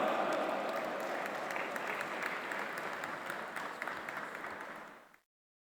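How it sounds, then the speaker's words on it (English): A gathering at an interfaith forum gives a sustained round of applause, dense and steady from many hands, tapering slightly before cutting off abruptly near the end. "Please put your hands together and welcome with a round of applause"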